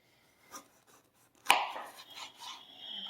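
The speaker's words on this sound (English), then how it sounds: "we're going to thinly slice our serrano pepper" A serrano pepper being cut on a cutting board: one sharp, prominent knife strike through the pepper onto the board, then quieter scraping and handling sounds, close and alone.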